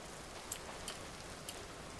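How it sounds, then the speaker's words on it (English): Steady, soft hiss of falling rain in the survival game Vintage Story, with a few faint droplet ticks standing out from the even wash. "it's also starting to rain"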